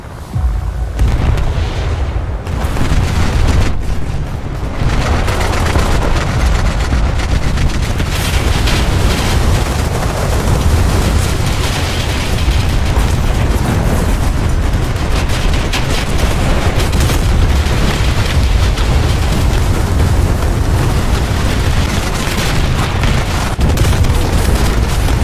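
Video game naval battle with artillery shells raining down on fifteen warships: a dense, continuous barrage of booming explosions and gunfire, loud and unbroken throughout.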